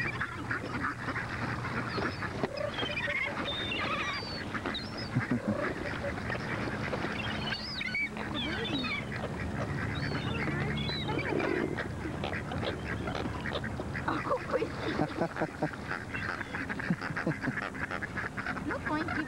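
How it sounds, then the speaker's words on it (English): Hungry ducks being fed in December honk and quack in a busy, overlapping chorus that runs throughout, close by, with people talking now and then. "This duck is so hungry, that thing."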